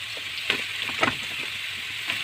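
Salted zucchini sizzles steadily in a hot pan while being stirred, with a constant frying hiss and a few soft knocks from the spoon. No voices.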